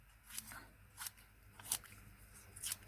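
Scissors snip through scraps of paper for a fish collage, four separate crisp cuts at a steady, unhurried pace, close and quiet with no talking.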